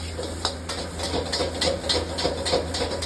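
Fried rice is stir-fried fast over high heat in a wok, with steady sizzling hiss and repeated metallic scraping and tapping of the spatula in a quick, even rhythm, close by.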